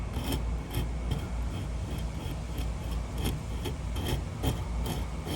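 A fingernail file, rough side first, rasps over the sharp fret ends of a guitar neck, a close, steady scraping with quick repeated strokes, no voices.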